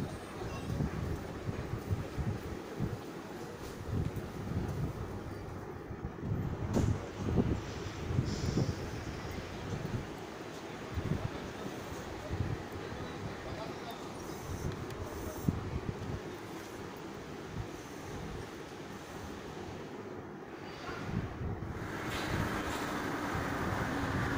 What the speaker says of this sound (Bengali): এই যে চলে এসছে মেট্রো